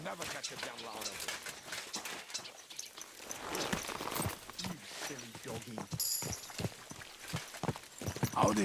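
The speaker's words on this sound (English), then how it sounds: "Get on your horse" Horse hooves clip-clopping at a walk in the medieval game Kingdom Come: Deliverance 2, a steady muffled rhythm running under near-constant dialogue from several voices.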